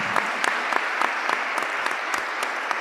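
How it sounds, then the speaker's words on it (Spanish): Steady audience applause at a book presentation in Uruguay, a dense, even wash of many hands clapping, moderately loud and continuous without pause. "pido un aplauso para él"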